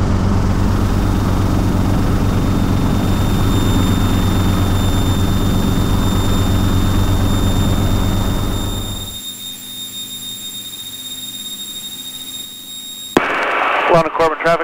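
Schweizer S300 (Hughes 269B) helicopter engine and rotor droning steadily and loudly during departure from Corbin-London airport, then dropping off sharply to a faint hum before a burst of radio traffic.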